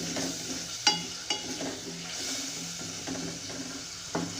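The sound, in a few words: potatoes cooking in masala in a pan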